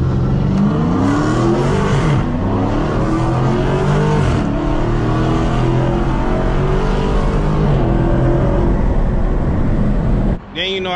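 A stock Dodge Challenger Hellcat Redeye and a bolt-on Chevrolet Camaro ZL1 race side by side from a roll, engines roaring loud and steady at full throttle under heavy wind buffeting for about ten seconds before a brief cut.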